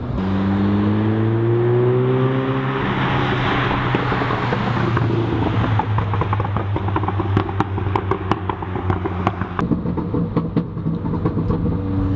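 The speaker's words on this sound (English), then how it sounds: "also when closed, let's you hear a bit of pops, but they are not that intrusive" A car fitted with a Guerrilla exhaust passes outside, a loud droning engine note that swells then fades, followed by a run of sharp crackling exhaust pops as it moves off.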